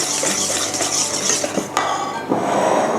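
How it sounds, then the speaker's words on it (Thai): Spoon stirring banana cake batter in a bowl, with steady scraping and soft clinks against the bowl and a couple of sharper knocks, close and continuous with no talk. "แล้วก็คนให้เข้ากันนะคะอย่าลืมนะคะ ส่วนผสมทั้งหมดจะต้องคนไปในทิศทางเดียวกันเท่านั้นนะคะ"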